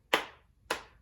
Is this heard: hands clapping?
yes